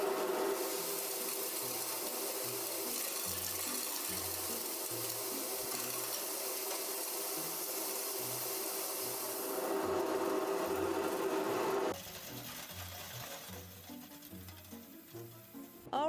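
Grain cleaner machine running while sorting grain mixed with worms, candy and bullets: a steady mechanical whir with rhythmic low thumping and rattling, then the hum drops partway and irregular clunks continue.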